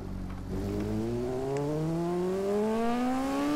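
A motorcycle engine revs in TT Isle of Man on the old Blair Forest course, its tone climbing steadily after a brief shift, close and sustained with no talking.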